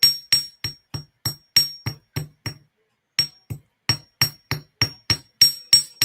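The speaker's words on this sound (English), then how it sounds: "hammer the swirl part" A small jewelry hammer taps a flattened swirl of wire beside a bead, sharp metallic strikes landing in a steady rhythm of about twenty light blows, close and clear with a short pause midway.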